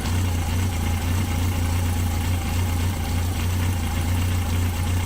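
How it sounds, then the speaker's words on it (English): A Yamaha XJ 900 F motorcycle engine idles steadily and loudly during carburettor synchronising, with a continuous low throbbing rumble and no break throughout. "Try to find the place where the engine sounds best, where it runs most smoothly."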